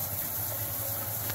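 Water spraying steadily from a freshly serviced Jaquar shower head, running hot, a loud, even hiss of spray close by with no talk.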